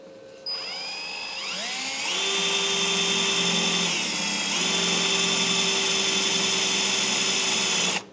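A power drill bites into the sheet metal of a 2001–2006 Chevrolet Silverado 2500 cab corner for plug welds, its whine rising in pitch as it spins up, dipping briefly under load, then running steady and loud before cutting off.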